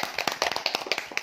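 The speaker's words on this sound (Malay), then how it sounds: "Tepuk tangan." Students in a classroom clap their hands in a short burst of quick, uneven claps, close and crisp, with no voices over them.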